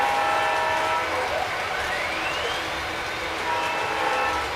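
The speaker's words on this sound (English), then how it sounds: "this engine has a very neat-sounding hooter whistle" A model train's hooter whistle sounds in sustained tones that rise and fall over steady rolling track noise, moderately loud and close.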